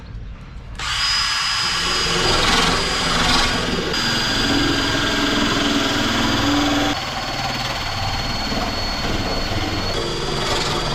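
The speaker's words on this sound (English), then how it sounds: "A final quick sand round just to get rid of any last little bits" A power sander makes a final quick pass over a fitted window or wind deflector on a VW Crafter camper van, a loud continuous whirring drone that runs steadily throughout with no talk.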